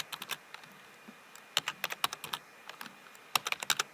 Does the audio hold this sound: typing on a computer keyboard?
yes